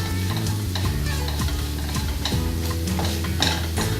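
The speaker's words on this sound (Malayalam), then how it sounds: "ഒരു 2-3 മിനിറ്റ് നന്നായിട്ട് കൈ എടുക്കാതെ നന്നായിട്ടൊന്ന് ഇളക്കിക്കൊണ്ടിരുന്നത്." Spice powders being stirred and fried in a pan for a Chettinad chicken, a constant sizzle with rhythmic scraping and clinking of the spoon against the pan, close and busy, no talk.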